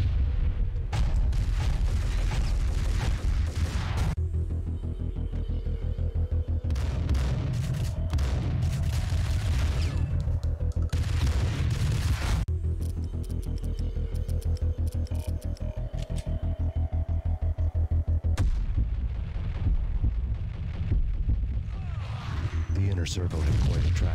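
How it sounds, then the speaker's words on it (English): Explosions in the Max Payne video game sound as repeated deep booms and blasts, several bursts with low rumbling tails spread across the stretch amid gunfire-like cracks. "it happens because of any explosion"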